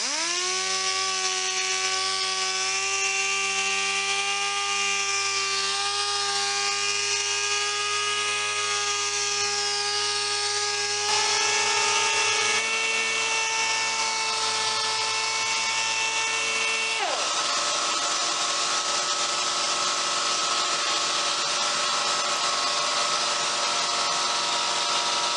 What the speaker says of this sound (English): so we'll see if my new compressor can keep up.